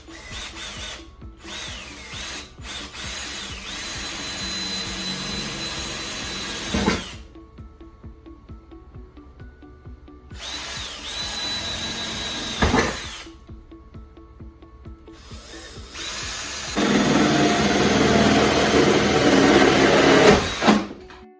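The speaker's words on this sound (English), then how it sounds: "Start drilling your holes." A power drill bores holes through the metal fender of a Colorado truck for an AEV snorkel install. It whines loud and close in three long bursts, separated by short silent pauses.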